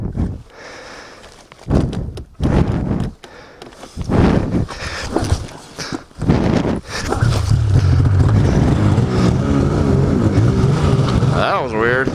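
A Polaris Assault 800 snowmobile engine stutters and cuts in and out in bursts, then catches and settles into a loud, steady idle, with speech mixed in early on.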